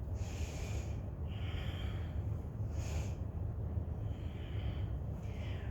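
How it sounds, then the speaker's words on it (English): Slow, deep yoga breathing during a flowing sequence, a few long airy inhales and exhales at an even pace, close and soft over a low steady background hum. "Inhaling and exhaling."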